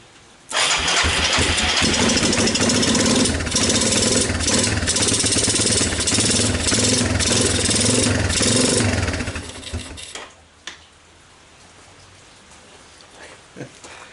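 A Yamaha Moto4 250 ATV, a revived barn find, cranks and catches, then runs with a loud, steady rough idle for several seconds before it cuts out, leaving quiet background with a few faint knocks.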